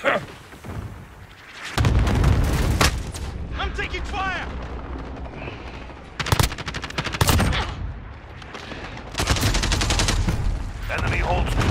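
Gunfire during a Domination match on the Rust map in Modern Warfare, loud bursts of automatic fire and heavy blasts crowding together in several intense stretches, with voices calling out in between.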